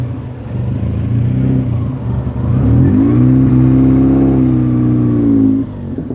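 A Toyota Supra pulls in at a track-prep cars-and-coffee meet, its engine humming steadily and then rising into a louder, sustained rev as the car approaches close by.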